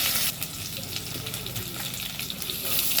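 Eggs and curry leaves sauté in a hot pan, giving a dense, close sizzle with small crackles and bursts throughout the short stretch.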